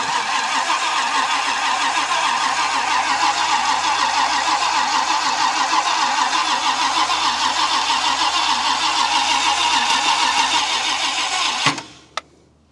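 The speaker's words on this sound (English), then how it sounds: "now we're just gonna go put the key in and turn it on and see if it lights off" A 1966 Ford wagon engine cranks, catches and runs steadily for about twelve seconds, a loud, continuous mid-pitched roar, then cuts off abruptly, followed by a couple of sharp clicks.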